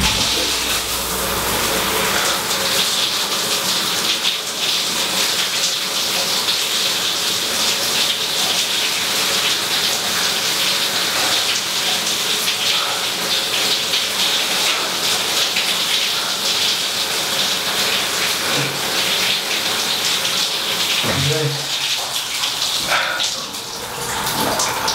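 Shower water runs steadily in a bathroom, a constant close hiss of spray with no talking, briefly shifting near the end.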